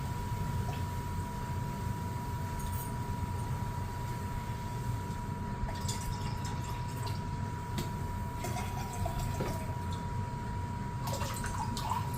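Nine Pin hard cider poured into glasses, a soft continuous trickle and splash over steady background hum, with a few faint clinks and knocks, no talk.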